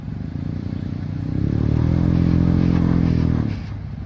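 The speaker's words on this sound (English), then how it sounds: "It sounds bad because you're resting on your exhaust" A Jeep off-roading: a loud, low engine drone rises and holds steady with a rough, clattering grind of the exhaust scraping while climbing, before easing off near the end.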